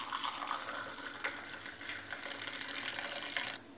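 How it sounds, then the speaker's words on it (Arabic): Hot water pours steadily into a large cup over ginger for a drink, a continuous close splashing gurgle lasting a few seconds without talk. "أضيفي الماء الساخن"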